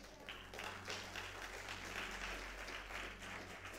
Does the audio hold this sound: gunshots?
no